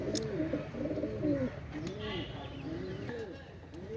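Pakistani pigeons coo steadily inside a loft, their low rolling calls repeating in overlapping bursts close by, with a person talking over them throughout.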